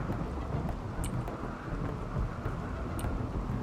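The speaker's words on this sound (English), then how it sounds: "I don't know if that thunder that I heard was in the video game, but I feel like it was outside." Low rumbling thunder rolls beneath a soft, steady wash of rain and light wind, faint and distant, with no talking.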